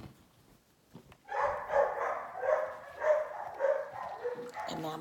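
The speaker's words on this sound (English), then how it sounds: "Oh my goodness, my little dog." A small dog barks in a quick run of about half a dozen high, yappy barks close by, fairly loud against a quiet room.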